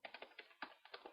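A short command is typed on a computer keyboard while configuring a router's enable mode: a quick, quiet burst of close, crisp keystrokes in an uneven rhythm, with no voices.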